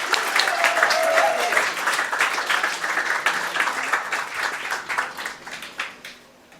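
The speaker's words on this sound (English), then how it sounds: "Big round of applause for Christopher Fielden!" An audience at a storytelling event gives a round of applause as the storyteller is introduced, steady crowd clapping that holds for several seconds and then tapers off, with a voice briefly heard over it.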